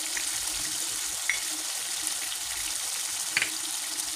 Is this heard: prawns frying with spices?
yes